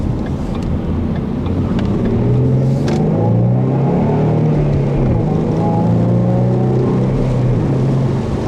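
A 2014 Ford Mustang with a 3.7-litre V6 and six-speed manual revs steadily, a loud, continuous engine drone whose pitch sweeps up and down with throttle, heard close and without talk.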